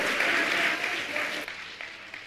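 An audience at a Jain religious discourse claps together, a full burst of applause that thins and fades toward the end with a few last scattered claps.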